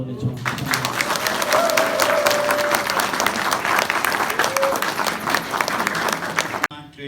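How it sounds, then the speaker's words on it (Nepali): A church congregation at a wedding ceremony claps in sustained, even applause for several seconds, fairly close and full, cutting off abruptly near the end. "हामी ताली बजाउनेछौँ"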